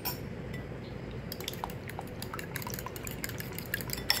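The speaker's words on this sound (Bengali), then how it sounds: "সামান্য একটু লবণ দিয়ে ডিমটা এখন ফেটে নিব।" Three eggs with a little salt for jali kabab beaten in a bowl, heard as quick light clinks and taps of a utensil against the side, close and fairly quiet over a steady background hum.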